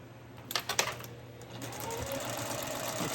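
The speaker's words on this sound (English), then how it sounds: "I'm sewing all the way across, and I'm going to stop at 1/4 inch" A sewing machine stitching a quarter-inch seam across the fabric liner for a small Longaberger road trip basket, running with a steady, continuous whir after a few brief clicks at the start, close and moderately quiet.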